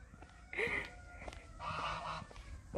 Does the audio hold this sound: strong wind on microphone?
no